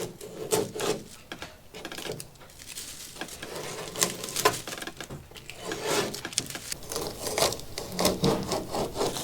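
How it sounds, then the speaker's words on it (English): A filler patch on a car's intake filter clearance area on an Altezza is hand-sanded flat, producing close, continuous raspy back-and-forth strokes in an uneven rhythm, with no talking. "Sand it flat."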